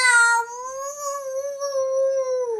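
A cat gives a single long, close meow that starts high and sharp, then settles into a sustained, drawn-out tone lasting a couple of seconds, clear against a quiet background.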